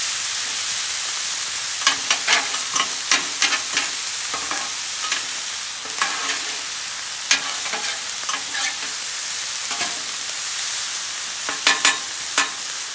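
Cold leftover rice frying on a Blackstone griddle and worked with metal spatulas, a steady bright sizzle broken by repeated sharp scraping clacks close by.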